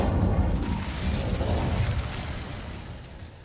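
Incendio, a fire spell in Hogwarts Legacy, bursts out as a dense, loud roaring whoosh that swells at once and slowly fades over a few seconds. It plays alone, without talk.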